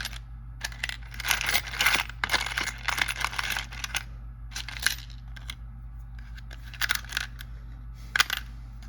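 Small metal hardware parts such as wing nuts and toggle bolts rattle and clink while being rummaged through in a bag, with irregular bursts of close jangling and rustling and short pauses.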